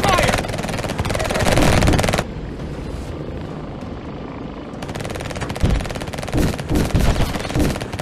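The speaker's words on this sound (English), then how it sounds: "I'm under fire!" Rapid machine gun fire and engine roar from a helicopter in the Warplanes 3 VR game, loud and dense, dipping to a duller drone midway before surging back with bursts.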